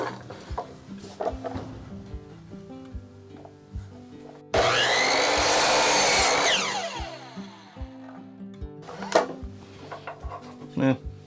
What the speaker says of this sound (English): So we're just going to flip the saw around, cut the other 45